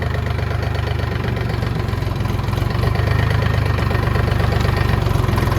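A Dongfeng 244 DHX mini tractor's diesel engine runs at a steady idle, a loud, close, rhythmic low chugging with a slight knock that grows a little louder midway.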